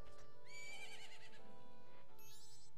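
Epona, the horse in the video game Zelda: Majora's Mask, gives a bright whinnying neigh with a wavering pitch, then a short second call near the end over a steady game music background.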